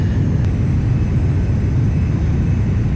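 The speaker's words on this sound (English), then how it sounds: "This is a very, very quick aircraft." A Carenado Premier business jet in a flight simulator gives a steady, loud low engine roar and rushing airflow throughout, with no other sounds standing out.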